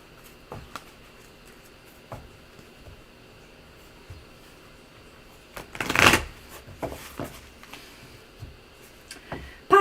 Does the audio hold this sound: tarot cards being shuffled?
yes